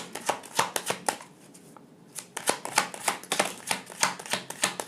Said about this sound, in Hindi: शफल करते हैं और कार्ड्स देखते हैं।